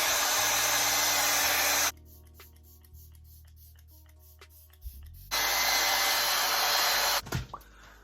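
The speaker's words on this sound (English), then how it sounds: "And then I will air dry it with a blow dryer on cool." A loud blow dryer on its cool setting roars steadily, cuts off for a few seconds of quiet clicking, then starts up again at full blast.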